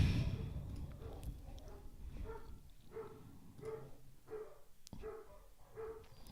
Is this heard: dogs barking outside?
yes